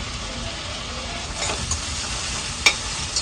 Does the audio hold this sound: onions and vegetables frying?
yes